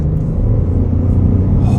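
A 2023 Ford F-150 XLT FX4 pickup accelerates on a highway, its deep engine rumble and road noise loud and steady from inside the cab, with no one talking.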